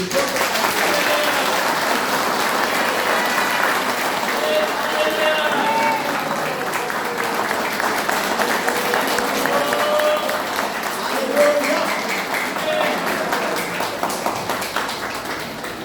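A church congregation at a Hindi sermon applauds steadily, dense and loud, with continuous clapping filling the room for the whole stretch.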